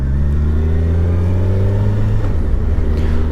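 A motorcycle pulls away from a junction after the rider eases off the back brake, its loud, close engine holding a steady mid-pitched drone that climbs slightly in pitch, with no talking.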